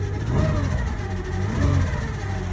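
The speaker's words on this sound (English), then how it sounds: "But this truck is running" A truck engine runs steadily nearby after a jump start from a NOCO GBX55 booster, with a low rumbling drone and two slight swells in revs.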